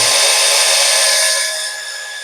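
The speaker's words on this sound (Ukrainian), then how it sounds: "Як бачите, шуруповерт повністю справний." A Zenit 12V cordless drill-driver runs under load with a loud, continuous high-pitched motor whine that eases slightly toward the end, heard alone and close up.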